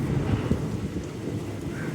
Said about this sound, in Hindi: बारिश कंटिन्यू हो रही है अभी भी